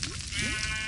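A sheep in the Minecraft video game, trapped near lava, bleats in one loud, wavering cry that fills the short moment, with no voices over it.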